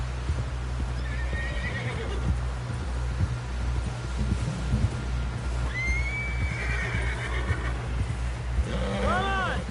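Horses whinny several times amid clip-clopping hooves in the Red Dead Redemption 2 video game, the neighs rising near the end over wind and people talking.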